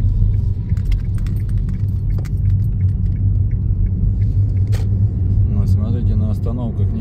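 A heavily loaded truck labours over wet sand, its engine a steady, close, low rumble throughout with little change in pitch; a voice briefly surfaces near the end.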